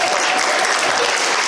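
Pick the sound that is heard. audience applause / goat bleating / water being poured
audience applause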